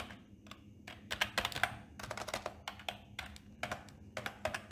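Code is typed on a computer keyboard in quick clattering bursts of keystrokes with brief gaps, close and fairly quiet, no talking.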